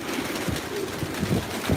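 Pigeons in a rooftop loft coo in soft, repeated low throaty calls, several birds overlapping close by in a brief stretch.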